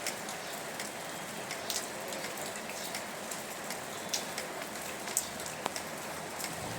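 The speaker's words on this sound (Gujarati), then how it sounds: "તોય તે ધીમો ધીમો વરસાદ આવે છે." Light rain falling in the mountains along the Amarnath trek, soft steady patter with scattered sharper drops striking a nearby surface, quiet and continuous.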